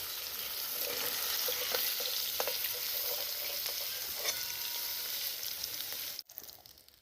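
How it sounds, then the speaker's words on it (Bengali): Paneer pieces fry in oil in a pan until browned, producing a steady, close crackling hiss that cuts off abruptly near the end, leaving only faint clatter. "পনিরগুলো লাল লাল করে ভেজে নিয়েছি এবার তুলে নেবো"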